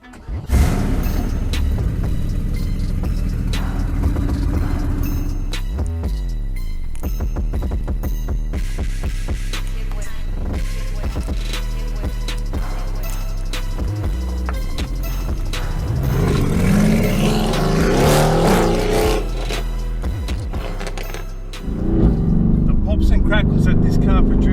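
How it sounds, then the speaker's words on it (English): A 2018 Mercedes-AMG GT R on the road, its engine droning loudly and steadily with rising and falling revs, a few sharp surges and crackles breaking through near the end. "Crackles that this car produces, so intoxicating to the ear, it is unbelievable"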